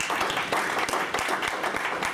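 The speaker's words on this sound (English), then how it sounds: "Let's have a round of applause for Anshin." Audience applause for Anshin at a tech legal seminar, a dense, even patter of many hands clapping from a room-sized crowd, with no talk over it.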